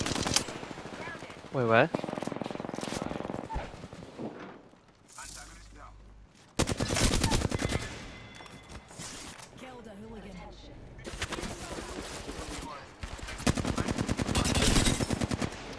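Rapid bursts of automatic gunfire from an Apex Legends match crackle in loud repeated volleys, with several separate bursts spread across the stretch while players talk over the shooting.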